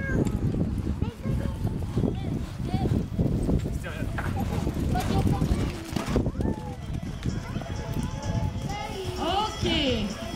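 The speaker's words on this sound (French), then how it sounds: "départ au galop à gauche" Horse cantering off on the left lead after a rollback, hoofbeats thudding in a steady rhythm through the clip while people talk over them.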